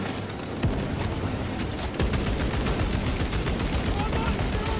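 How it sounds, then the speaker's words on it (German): Warhammer 40k Space Marine 2 combat: dense, rapid gunfire rattles on continuously with heavy booms from grenade explosions, loud and chaotic throughout the co-op battle, with faint voices beneath. "Erstmal Granaten da rausfeuern."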